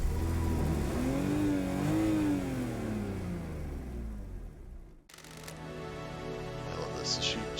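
A car engine in the video game Paradise Killer revs loudly with a rising and falling whine, then cuts off abruptly before a steadier, lower engine hum resumes.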